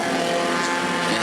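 A Bomber class race car, the Saturn, runs on the New Smyrna track during night qualifying, with a steady, loud engine roar that holds throughout.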